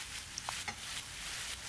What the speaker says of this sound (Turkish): Bir iki kere tersine çevirerek kızartıyorum.